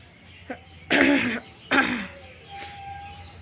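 A young child coughs with a dry cough, two harsh bursts close together followed by a fainter catch, heard nearby in a quiet indoor room.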